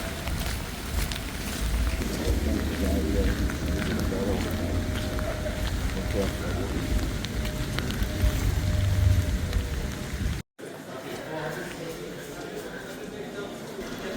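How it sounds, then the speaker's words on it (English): Steady rain falls outdoors in Mainz, Germany, beside a river, a dense, even hiss of drops with low wind rumble, close and constant, briefly cut by a dropout near the end before resuming more faintly. "now it's raining so bad outside"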